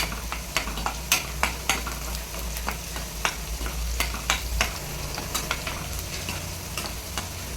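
Paruppu keerai base frying in a pan, with steady sizzling and a close, rhythmic scrape-and-tap of stirring heard alone throughout.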